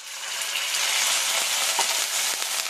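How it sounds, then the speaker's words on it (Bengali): A pan of onion, ginger and garlic paste sizzles loudly as a little water is poured in, giving a steady hissing steam and bubbling texture with a few faint clinks, close and continuous with no talking. "দিয়ে দিচ্ছি সামান্য জল।"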